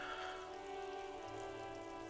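Continuous video game rain patters and hisses evenly, layered over a sustained tonal drone like ambient background music.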